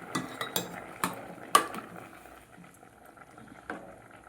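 Chana dal and wheat rava payasam with jaggery bubbling in a pot, a faint simmer under a few sharp spoon clinks and stirring knocks early on that thin out to quiet bubbling.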